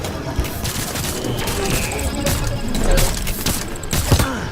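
Gunfire in the video game Detroit: Become Human, a dense loud fusillade of rapid shots and mechanical clatter mixed with game effects, with a voice shouting over it.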